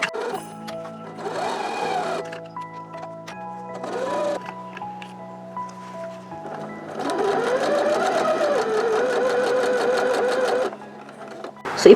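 A sewing machine stitches denim jeans fabric close by, its motor whirring in bursts of rapid stitching broken by brief pauses. A long, steady run comes near the end.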